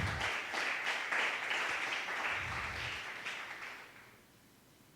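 A church congregation applauds during a service, a steady patter of many hands that swells, holds, then tapers off quietly near the end before a brief sharp sound.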